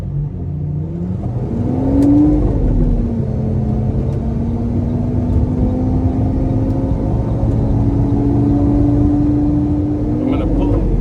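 A 2012 Lamborghini Aventador LP-700 with an automated manual gearbox drones steadily while driving, its engine tone rising briefly then holding a sustained hum, with the driver talking over it inside the cabin.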